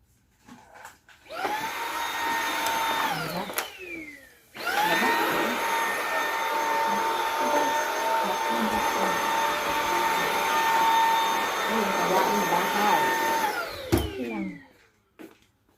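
A household vacuum cleaner runs loud and close with a whining motor drone. It cuts out briefly near the start, then restarts and holds steady for about ten seconds before shutting off with a falling whine.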